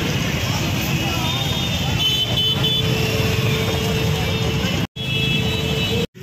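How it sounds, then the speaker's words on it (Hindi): Dense Delhi traffic jam with a steady wash of car engines and road rumble close by, continuous and loud throughout, with a brief cut near the end; no horns stand out clearly. "ये देखिए दिल्ली का जाम फ्रेंड्स ट्रैफिक जाम है"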